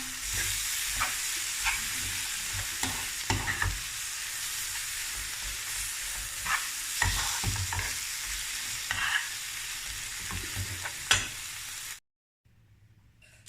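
Vegetables and garlic fry and hiss steadily in a pan while a utensil scrapes and stirs them in irregular bursts, close and continuous, then the sound cuts off abruptly near the end; no one speaks.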